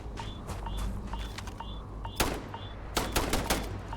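Semi-automatic gunfire in the space video game Starfield: repeated single shots at a steady pace, with a louder cluster of sharp reports near the end, heard over a low game ambience with no talking.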